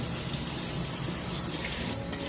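Tap water runs steadily into a kitchen sink while raw shrimp are rinsed of salty water, a continuous close hiss and splash with a brief stronger splash near the end.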